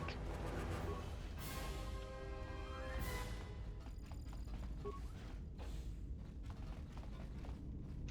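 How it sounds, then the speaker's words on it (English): A sci-fi medical bay door in the video game Star Wars: Knights of the Old Republic II opens with a loud mechanical hiss and sliding whoosh that sweeps upward, followed by creaking and metallic clanks over a dense, rumbling ambient drone. "Medical bay door."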